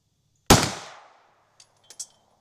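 One sharp, loud close-range pistol shot fires a light primer strike round and its echo decays; a few faint metallic clicks follow, with no talk.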